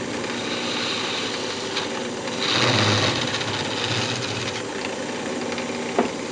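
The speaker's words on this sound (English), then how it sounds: "I'm just going to go ahead and part it off." A wood lathe hums steadily while parting off a turned lidded box, with a brief rise in scraping cutting noise midway and a small sharp knock near the end, no talk.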